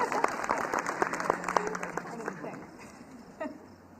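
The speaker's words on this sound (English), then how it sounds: "Go ahead and clap, buddy." An audience at a baccalaureate ceremony claps in scattered, fairly faint bursts that fade out, with a voice speaking faintly beneath.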